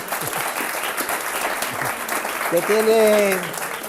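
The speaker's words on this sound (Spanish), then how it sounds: "un aplauso para Jesús" Applause from an audience at a Spanish economics class on central banks, a steady broadband patter of clapping throughout, with a brief voice-like tone rising near the end.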